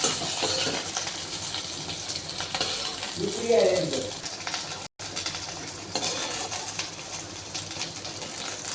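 Okra fries in hot oil in a pan, a continuous soft sizzle with occasional stirring and clinks of a spatula, briefly cutting out for an instant partway through.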